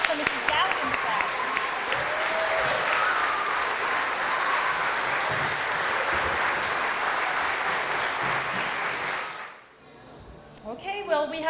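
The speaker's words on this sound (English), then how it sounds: "Let's have a nice round of applause for Mrs. Galvin's class." A graduation audience applauds for a class, a dense sustained wash of clapping for nearly ten seconds before it cuts off, with a few voices heard faintly at the end.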